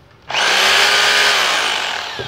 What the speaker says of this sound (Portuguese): Fura com impacto